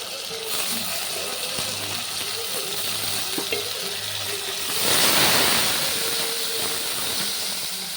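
Tomatoes tipped into a pan of fried onions raise a sudden loud sizzle and hiss partway through, then settle into a steady frying crackle under quiet talk.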